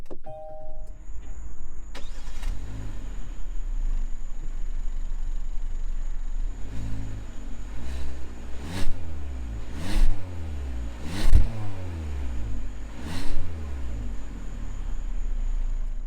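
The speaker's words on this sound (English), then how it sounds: "I want to show you guys it starting up" A 2021 Kia Forte GT Line starts by push button: a faint chime and click come first, then the engine cranks and catches, idling low and steady with a few revving swells and a continuous high electronic tone above.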